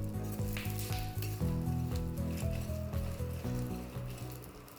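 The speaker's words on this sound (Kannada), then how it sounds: "ಕೊಬ್ಬರಿ ಮತ್ತೆ ಕಡಲೆ ಎರಡನ್ನೂ ಹಾಕ್ಕೊಂಡು ಜಾಸ್ತಿ ಫ್ರೈ ಮಾಡಕ್ ಹೋಗ್ಬಿಡ್ತೀವಿ." Grated coconut and chana dal frying in a pan for chutney powder, giving a soft steady sizzle broken by repeated stirring scrapes, quiet and close, with no voices.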